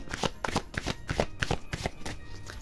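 Tarot cards being shuffled for a reading, a quick run of crisp riffling bursts close up, repeating in a steady rhythm with no talking over them.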